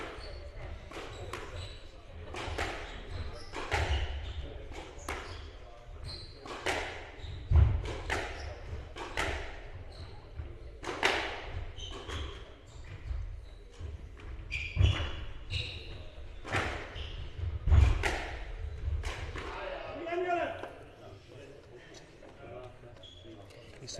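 A racketlon world championship quarter-final, with repeated sharp ball strikes and bounces in an irregular rally rhythm, heard at moderate distance under ongoing commentary voices.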